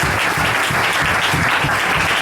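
A congregation at a francophone worship service claps and cheers for the Lord, a dense, steady wash of applause filling the room throughout, close and loud with no break.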